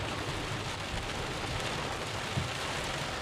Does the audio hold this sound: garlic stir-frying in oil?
no